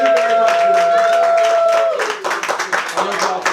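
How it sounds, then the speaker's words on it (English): An audience at a writing session applauds the host, with a burst of clapping after a sustained tone, the claps growing scattered and uneven toward the end. "can we give a hand of applause to our host?"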